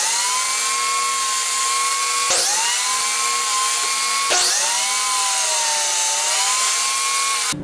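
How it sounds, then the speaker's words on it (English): A power saw crosscuts a wood piece to length for a walnut sofa arm table, making a loud, sustained high whine. Pitch dips twice as the blade bites into the wood, and no one speaks. "we'll cross cut this piece to its ultimate length"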